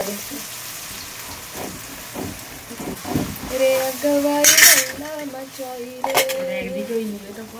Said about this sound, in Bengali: সব ভাজাভুজি হয়ে গেছে, এবার সুজিটা দিয়ে দেবো।